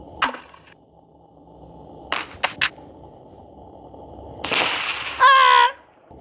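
Gunshots in the Melon Playground game: a few sharp, loud cracks, a quick pair in the middle, then a longer burst with a tonal ring near the end, separated by near silence.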